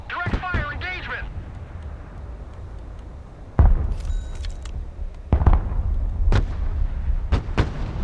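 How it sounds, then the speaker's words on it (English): Scattered heavy booming shots of direct fire from units in the strategy game Broken Arrow, several sharp separate blasts spread over several seconds, with a voice speaking early on and faint background sounds in between. "Engaging targets with direct fire."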